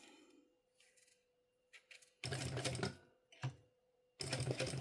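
A sewing machine stitches a pocket onto a mini backpack, running in loud bursts with pauses between them, a short run in the middle and a longer one at the end, close up.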